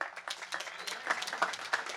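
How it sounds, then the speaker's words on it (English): Audience applause at a jazz ensemble event, scattered clapping of moderate loudness with a few sharper claps standing out, fairly close and steady over two seconds. "so give them a round of applause."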